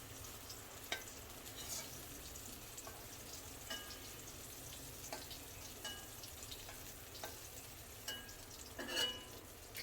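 Fish frying in oil in a pan, a quiet continuous sizzle with scattered small pops and crackles throughout, faint and steady, no voices.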